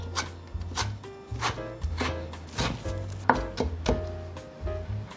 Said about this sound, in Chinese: 接着切条， 换一个方向，切碎。